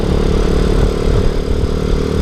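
A Boom Vader Grom-clone motorcycle with an upgraded carburetor idles nearby, its engine running loud and steady with a dense mechanical clatter and no voices.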